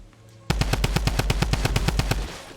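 Drum gun firing in Fortnite, a loud rapid burst of about fifteen evenly spaced shots that starts abruptly and runs to the end without any talking.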